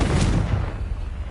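Explosion of the Confringo blasting spell in Hogwarts Legacy: a dense, loud burst that booms at once and rumbles steadily through the short moment, with no talking.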